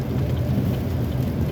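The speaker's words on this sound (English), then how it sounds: "It's actually raining now again." Steady rain falls outdoors after a trail race, a dense, even hiss with low rumbling underneath and no speech.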